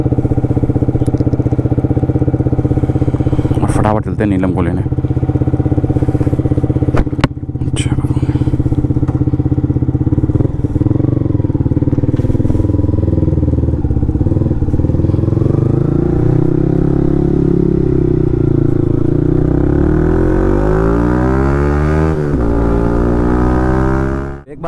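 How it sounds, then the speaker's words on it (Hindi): A motorcycle engine runs loudly and close throughout, revving and rising in pitch as it pulls away, while someone speaks briefly over it. "बाइक करते स्टार्ट"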